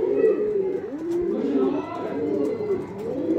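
Pigeons coo steadily in a pigeon shop selling old-line breeds in Bangalore, the low rolling calls overlapping and continuous, close and fairly loud, with a faint voice in the background.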